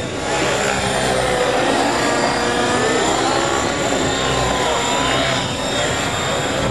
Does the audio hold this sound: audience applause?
no